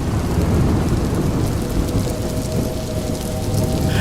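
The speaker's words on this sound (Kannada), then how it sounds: "ಅಂದೇ ರಾತ್ರಿ ಬೆಂಗಳೂರಿನಲ್ಲಿ ಮಳೆಯ ಆರ್ಭಟ ಶುರುವಾಗಿತ್ತು." Heavy night rain pours down steadily over Bengaluru in a dense, constant hiss, with deep thunder rumbling low underneath and no voices.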